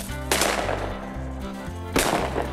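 Two loud shotgun blasts fired at a flushing quail covey in open hunting country, spaced about a second and a half apart, close and sharp with ringing decay after each shot.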